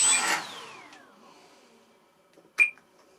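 A small electric motor on an FMS 800mm T-28 Trojan model plane spins briefly with a whine that falls away, followed by quiet and a short sharp burst near the end.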